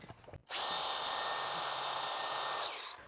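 A 4.5-inch angle grinder fitted with a 120-grit flap disc spins up sharply and grinds steadily across epoxy on a garage floor, a loud close whine that holds for over two seconds and then eases slightly.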